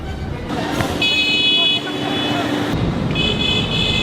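Car horns sound in several sustained toots over steady street traffic noise in Vietnam, with a short gap before more honking resumes.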